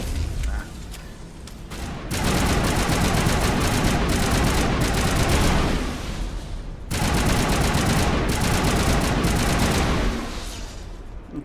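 Dense, continuous sniper rifle fire and explosions from the Mass Effect video game, loud and sustained for long stretches with a short lull partway through.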